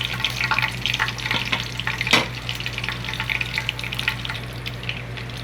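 Bay leaf, clove, cinnamon and cardamom stirred in hot oil for a Hyderabadi chicken dish, with a continuous crackling sizzle, scraping stir strokes throughout and one sharp utensil clank midway.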